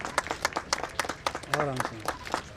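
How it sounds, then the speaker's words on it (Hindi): Scattered hand clapping from an audience at an amphitheater inauguration rattles steadily while a voice talks over it. "आप सबकी जोरदार तालियों में उनकी उपस्थिति हमारे लिए बहुत"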